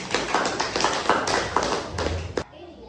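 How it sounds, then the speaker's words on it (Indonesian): Classroom of students clapping for group 1, a dense patter of many hands at close range that stops abruptly near the end, leaving a quiet room. "Beri tepuk tangan untuk kelompok 1"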